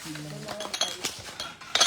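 Plates and dishes clink and clatter as they are handled, with several sharp knocks scattered through the stretch while people talk close by.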